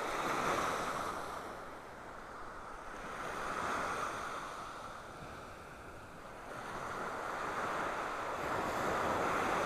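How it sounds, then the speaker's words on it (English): Ocean surf and a morning breeze on a beach in North Naples, Florida: a continuous broad wash of waves swelling and easing in slow surges, with wind rushing over the microphone. "A little bit of a breeze out here this morning."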